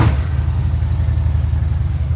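A truck engine fitted with a performance exhaust runs close and loud, a deep, steady, throbbing idle rumble continuing without break.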